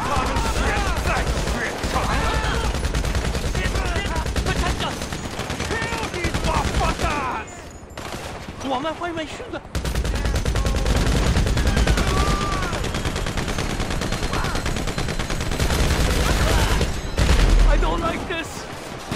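Rapid gunfire in a GTA V Online mission shootout, loud bursts and volleys of automatic shots filling the scene, with a brief lull midway and someone speaking briefly over the firing.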